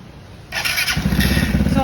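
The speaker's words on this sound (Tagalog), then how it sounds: "you can actually see the difference when starting the engine" A Vespa GTS 300 scooter from 2024 with low power, after a timing chain tensioner and lifter service, cranks over and fires, then settles into a loud, steady, throbbing idle close by.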